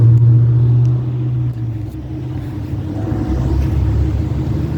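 A Buick V8 car engine idling at a car show, a loud, deep low rumble that steadies after an initial heavier throb, close by, with no talk over it.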